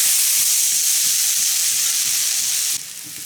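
Grated potatoes with a little cumin fry in hot oil, giving a loud, steady sizzle with faint stirring thumps underneath; the hiss drops slightly in level near the end.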